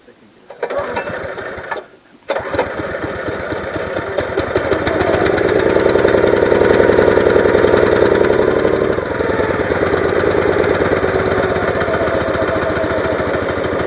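A small gasoline engine on a log splitter starts for the first time after a carburetor rebuild, its loud steady putter rising and settling as the throttle changes, with voices talking over it.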